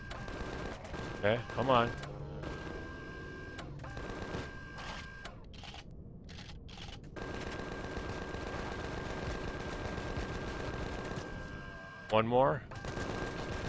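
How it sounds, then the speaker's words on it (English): Gatling gun fire from a small vessel in the game Empyrion Galactic Survival, on a multiplayer server: sustained rattling bursts that run almost continuously, with short breaks, while someone talks over the shooting. "let's take these guys out, and I'm using Gatling gun off of my SV."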